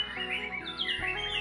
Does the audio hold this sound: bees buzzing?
no